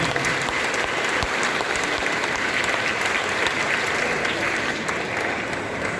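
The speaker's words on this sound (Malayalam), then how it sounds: "കൈയടിച്ചുകൊണ്ട് പിതാവിനെ സ്വീകരിക്കാം" A crowd applauds steadily to welcome a bishop at a Christmas gathering, a dense, loud wash of clapping that holds evenly throughout.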